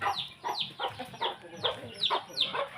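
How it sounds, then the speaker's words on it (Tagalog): Backyard chickens on a rural provincial farm cluck in a rapid, rhythmic series of close, fairly soft calls, repeating steadily throughout with no one speaking. "may mga manok, may mga alagang manok"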